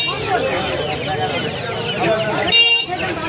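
Chickens cluck and squawk close by at a busy rainy-season poultry market in Uluberia, a dense tangle of bird calls with people talking over them throughout.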